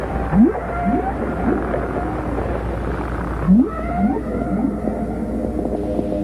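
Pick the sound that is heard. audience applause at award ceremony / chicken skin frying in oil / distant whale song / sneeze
distant whale song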